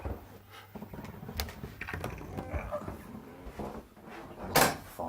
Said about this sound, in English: I'll force my way out this door. It catches on the carpet.